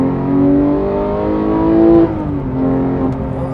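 A loud 2018 Porsche 911 GT3 engine with an aftermarket exhaust revs high toward 9,000 RPM, its pitch climbing steadily, then dips briefly at a gear change before pulling hard again.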